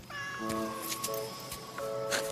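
A cat meows several times in drawn-out, tonal calls, fairly close and clear over a quiet room with faint background noise.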